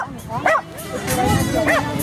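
Dog barking and yipping in short bursts during fetch retrieve training on command, with a handler talking over the scene.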